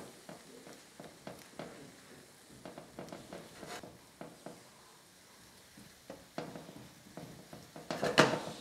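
Besan halwa being stirred and cooked in a pan over a low flame, with soft scraping strokes and a quiet sizzle in irregular bursts, ending in a louder clatter.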